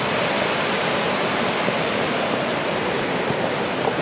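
Steady broadband rush of a creek flowing nearby, continuous and fairly loud with no talk over it.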